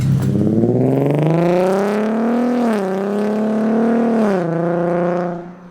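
A Nissan 370Z engine revs up loudly nearby, its exhaust note climbing, dipping briefly, then holding before fading out at the end.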